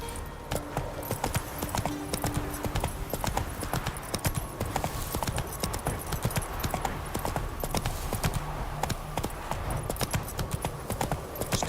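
Roach the horse galloping in The Witcher 3, a rapid steady clip-clop of hooves throughout, close and even, with a faint murmur of voices underneath.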